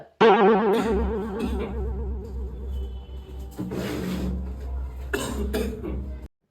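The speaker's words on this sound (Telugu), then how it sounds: "అప్పుడప్పుడు దగ్గు వస్తుంది డాక్టర్" Two short, harsh coughs burst out close by after a wavering, drawn-out vocal sound, with a low steady hum underneath.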